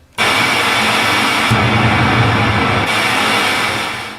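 A harsh, steady hiss from a Minimoog analog synthesizer's noise source switches on abruptly, holds with slight shifts in tone, then fades out at the end.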